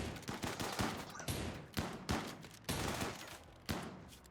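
Repeated gunshots from shotguns in the colony-sim game RimWorld, a string of sharp, loud blasts at irregular intervals with some closely spaced bursts, no talking.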